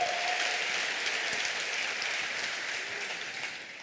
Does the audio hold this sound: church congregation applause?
yes